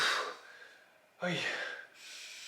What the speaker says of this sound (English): you hear yourself breathing like this